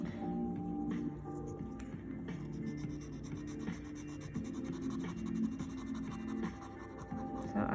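Charcoal scratching and rubbing against paper during shading of small spaces in a drawing, a steady close rasp that continues throughout with a faint hum underneath and no speech.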